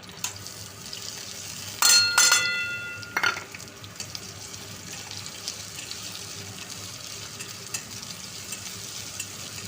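Chopped onion hits hot oil with a brief loud burst of sizzling, settling into a steady quieter fry with some clinking of utensils.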